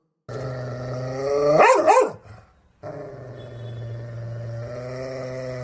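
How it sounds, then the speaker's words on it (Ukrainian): A dog growls low and steadily, with a short snarling burst in the middle, then the rumbling growl continues close by. "раптом почувся низький гарчливий звук"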